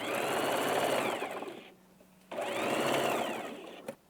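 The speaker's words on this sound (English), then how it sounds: "to have a perfect join on the shoulder part, you need to sew one side first" A sewing machine stitches a garment's shoulder seam in two steady running bursts with a short pause between, close and fairly loud, with no talk.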